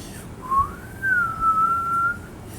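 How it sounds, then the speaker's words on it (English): A faint, shrill whistle rises and wavers in one long drawn-out tone from far behind, deep in an untrodden wild wood, over a low rumbling background. "Then the whistling began."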